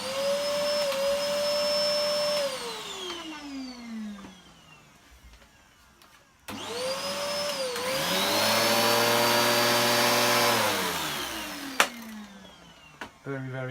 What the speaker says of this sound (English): This is the Electrolux The Professional.